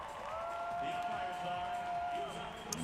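Crowd murmur at a Paralympic table tennis match, a steady moderate hum of spectators filling the arena with faint voices, under a commentator's talk.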